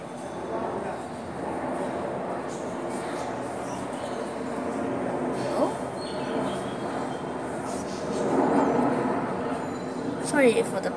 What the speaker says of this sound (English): Sorry for the plane going by.